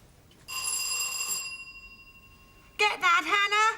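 A front-door bell in a home sounds as a sustained ringing tone, then after a short pause rings again with a fast trilling burst, fairly close and clear.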